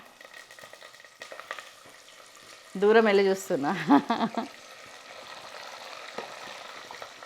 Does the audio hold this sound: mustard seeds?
yes